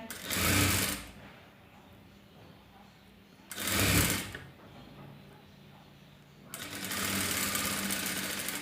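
A sewing machine stitches thread piping onto fabric in three separate runs: two short whirring bursts, then a longer steady run at the end, with quiet pauses between them.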